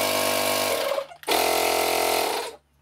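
A Makita 12-volt cordless inflator buzzes loudly in two runs, a steady motor drone that cuts out briefly about halfway, restarts at full strength, then stops abruptly.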